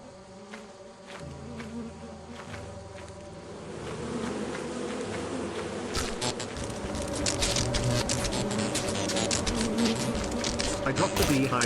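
In a video game, bees buzz around a carried beehive, a droning hum of insects that grows louder midway and swarms densely near the end amid other game sounds.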